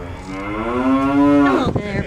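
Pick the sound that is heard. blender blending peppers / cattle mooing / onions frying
cattle mooing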